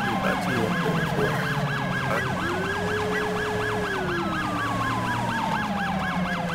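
An ambulance siren in a GTA V fire-and-rescue roleplay wails steadily in rapid up-and-down cycles, loud and continuous, with a lower engine tone underneath and no talking.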